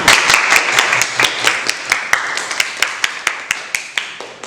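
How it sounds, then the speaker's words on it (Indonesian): High-school classmates clap for each other in a classroom, a run of sharp, fairly sparse claps in an irregular rhythm that thins out toward the end. "Beri tepuk tangan dong untuk teman-teman kita."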